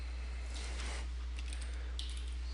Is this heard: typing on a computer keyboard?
yes